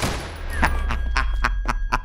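Gunfire in a Brazilian video game: a short string of sharp shots fired at a steady pace over a low engine-like rumble, close and fairly loud.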